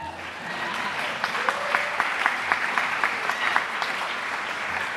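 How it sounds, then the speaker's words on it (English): A school audience claps at an awards ceremony honouring staff, steady applause with a few sharper individual claps standing out, moderately close and continuous throughout. "Go ahead and clap for them."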